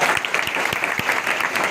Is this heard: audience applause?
yes